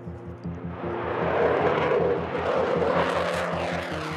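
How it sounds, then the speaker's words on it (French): A French Rafale fighter jet's engines roar in a loud, sustained, rumbling blast that swells and holds for several seconds, with no voices over it. "le craquement assourdissant de ses réacteurs"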